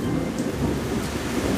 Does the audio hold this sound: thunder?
yes